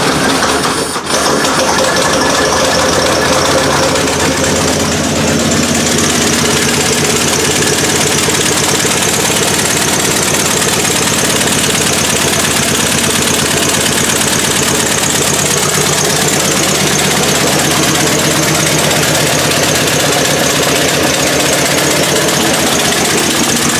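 An old truck engine that hasn't run in 30 years, choked and cranked, fires up and runs loud and rough right at the mic, a steady heavy idle with knocking throughout the clip and no talk over it.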